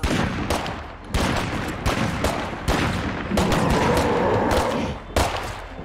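Rapid video game gunfire aimed at a Juggernaut: repeated loud, close bursts of shots in uneven rhythm, with a dense roar of continuous firing in the middle.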